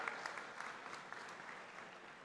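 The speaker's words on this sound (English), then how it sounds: "I request everyone you to give a big round of applause" Steady audience applause fills a student parliament hall, faint and distant with a continuous patter of many hands, no voices over it.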